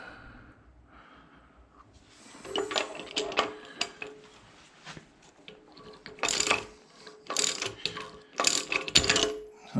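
A ratchet with a socket drives a bolt onto a high-stall torque converter in a 2012 Hemi Ram 1500. Quick bursts of clicking pawl ratcheting arrive in uneven spurts, close and fairly loud, with pauses between strokes.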